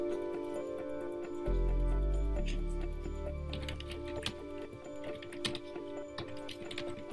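Quiet clicking keystrokes on a computer keyboard, a loose irregular patter of taps over a faint steady hum, with a short low thump near the start.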